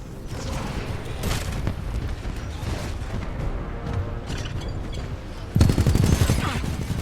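Bursts of rapid automatic gunfire and weapon fire in the shooter game Titanfall 2, sustained rattling with a louder, harsher volley near the end, mixed with game effects.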